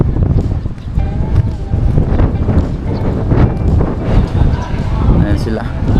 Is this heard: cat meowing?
no